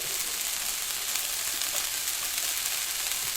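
Cumin, cloves, black cardamom, black pepper and a cinnamon stick fry with onions that are starting to brown, while a yakhni pulao is being made. A dense, even sizzle holds steady and loud throughout.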